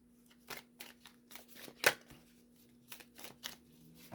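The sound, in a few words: shuffling tarot cards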